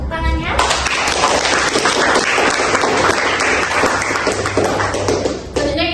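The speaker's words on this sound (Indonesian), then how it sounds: "Boleh tepuk tangannya?" An audience at a podcast talk show about Gen Z and democracy breaks into dense, sustained applause that lasts several seconds before it quickly dies away.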